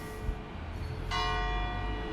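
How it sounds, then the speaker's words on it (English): Church bells ring out across Edinburgh, a resonant peal that swells in partway through over a background of street noise and distant traffic. "We've got the church bells ringing."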